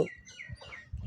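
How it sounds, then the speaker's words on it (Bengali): Ducks at a quiet river launch ghat at Beltoli give a few short, close calls over about a second, with soft low rustling between them. "দেখেন এই হাঁসগুলো"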